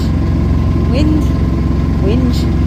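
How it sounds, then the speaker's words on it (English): A small sailboat's little auxiliary engine runs steadily at close range, a constant loud low drone throughout, with a person speaking over it. "We have a little engine as well."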